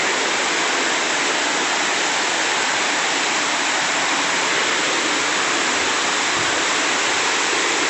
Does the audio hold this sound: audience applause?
no